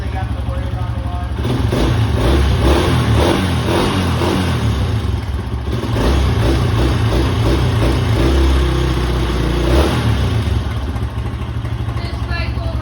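A Honda CRF150F dirt bike engine revving close by, a loud, rough, clattering roar that swells and eases in waves and never drops to quiet.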